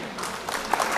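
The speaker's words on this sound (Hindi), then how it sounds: "जोरदार तालियां खूबसूरत डाइस के लिए" Brief burst of audience applause at a mushaira opening ceremony in Khatauli, a crowd clapping steadily and swelling slightly toward the end, moderately loud.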